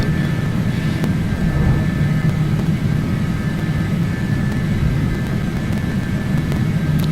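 Aircraft engines in the Prepar3D flight simulator during the climb after takeoff in a strong crosswind: a steady, loud, continuous roar with a faint whine on top, constant throughout with no talking.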